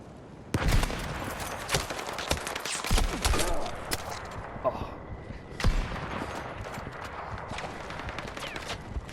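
Sniper rifle shots ring out in Battlefield 6 on Wake Island as several sharp reports among scattered gunfire and battlefield clatter. The action is moderately loud, with a busy background of distant shooting and impacts.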